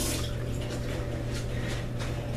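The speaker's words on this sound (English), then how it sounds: "I'm going to quickly wash my hands here because I've got cheese in my fingernails." Tap water runs steadily into a sink while hands are washed, a continuous close splashing rush with no pauses.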